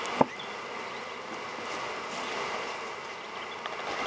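A steady, fairly quiet drone of buzzing honey bees at an open hive hangs throughout, with a single sharp tap near the start.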